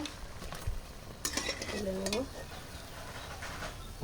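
Potato chops fry quietly in oil with a faint, steady sizzle, and a brief whistling tone rises in the middle.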